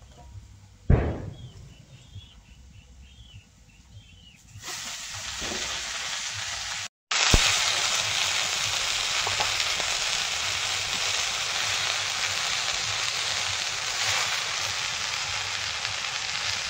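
Fourteen kinds of leafy greens hit hot mustard oil already seasoned with dried red chilli, chopped onion and crushed garlic, setting off a loud, steady sizzle that jumps up midway and keeps crackling close by without any talk.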